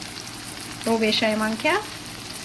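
Spiced brown rice and chicken fry in a pan, giving a steady close sizzle under someone speaking briefly.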